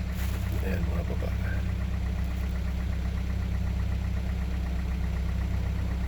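A 2011 Dodge Journey with a 2.4L engine idles after a fuel injector replacement, giving a steady, close low hum with a constant vibrating drone and no change in speed.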